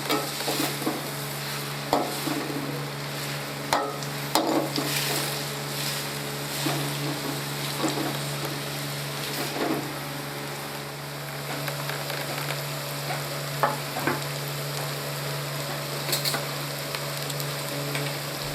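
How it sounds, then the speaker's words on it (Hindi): Onions frying in a pan and being stirred for a masala tinda (Indian round gourd) curry, a steady broadband sizzle with regular scraping and clinking of the spoon against the pan, close and continuous, with no talking. "और उन्हें अच्छे तरीके से फ्राई करेंगे।"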